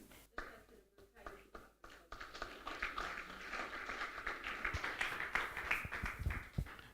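Audience at a youth agricultural conference breaks into hand clapping, a dense, steady patter of many hands that builds after a couple of seconds and carries on fairly loud, with some murmuring voices mixed in.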